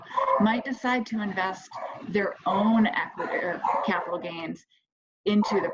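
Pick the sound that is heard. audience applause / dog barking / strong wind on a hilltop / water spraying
dog barking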